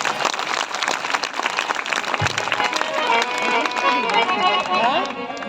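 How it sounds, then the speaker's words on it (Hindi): A live audience at a Haryanvi cultural gathering bursts into sustained clapping for Haryana, a dense wash of applause running throughout, with a voice speaking over it. "फिर भी एक बार अपने हरियाणा के लिए ताली बजाओ"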